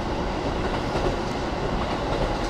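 A KiHa 40 diesel railcar runs on the Nemuro Main Line between Furano and Shintoku, giving a steady, close rolling rumble with track noise that holds at an even level throughout.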